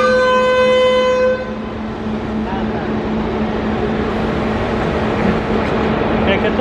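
A train at Bucharest North Railway Station starts to move, a steady low rumble and rolling noise building close by after a brief horn-like tone at the start.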